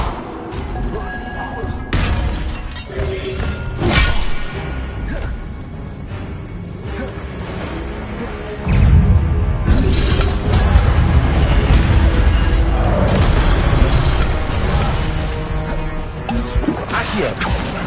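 Repeated fiery spell impacts from the Incendio spell in Hogwarts Legacy: several heavy crashes and thuds spread over the stretch, mixed with whooshing combat noise, with voices calling out amid the action.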